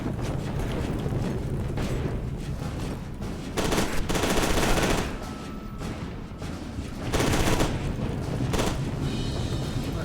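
Sustained loud gunfire in the shooter game FEAR 2: Project Origin, dense bursts of automatic fire swelling and easing in waves over a roaring, noisy battle din.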